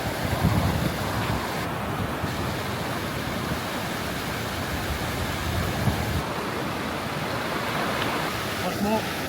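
A glacier meltwater stream in Georgia rushes steadily and fairly close, a dense, unbroken wash of flowing water mixed with wind buffeting the microphone.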